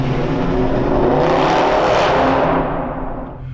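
A 2019 Dodge Charger Scat Pack, a 485 hp muscle car, drives on the road with a loud, steady engine roar and broadband rush throughout, swelling slightly mid-clip before easing off toward the end, with no talking.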